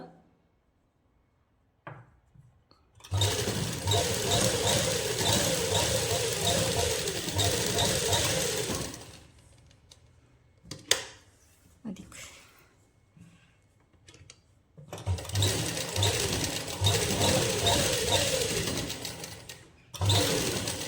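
A sewing machine stitches the side seam of a suit in two long, steady whirring runs separated by a quieter pause with a few clicks and handling noises, close and loud.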